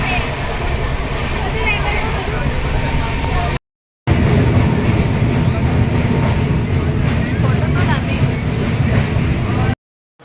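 Continuous rumbling and rattling of a train running on rails near Kharagpur, heard from inside a carriage with voices talking over it; briefly cut off twice.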